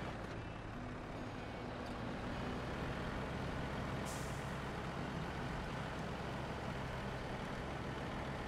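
A loud, steady diesel drone from an International Paystar truck in the off-road driving game SnowRunner, rumbling continuously without a break, with a short hissing burst partway through.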